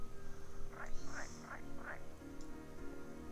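A toad croaking in the point-and-click adventure game The Whispered World, four short rising croaks in a steady rhythm, fairly close over a quiet ambient background.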